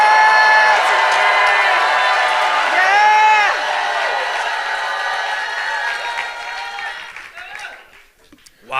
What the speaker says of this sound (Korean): Let's just shout again to Jesus right now.